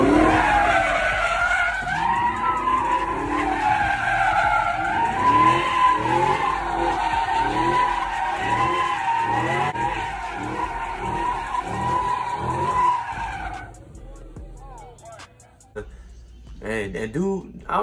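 An all-black sixth-generation Camaro SS slides at a street takeover in New Orleans, with a sustained loud tire squeal and engine roar that pulses rhythmically for about thirteen seconds before fading. Crowd voices are heard underneath.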